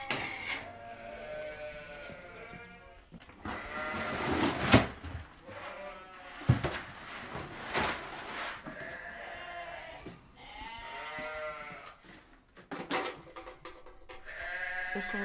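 Sheep bleating inside a farm building with grey metal lockers, several animals calling in repeated wavering cries at close range, overlapping with occasional clanks and shuffling.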